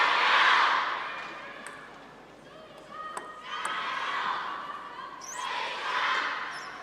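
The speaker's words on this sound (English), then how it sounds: "getting a little bit of fan action here from the crowd" Fans in the arena crowd at the China Open 2017 women's singles table tennis final swell into broad cheering, rising loud at the start, dipping, then surging again in waves, with a few sharp ball or shoe sounds in between.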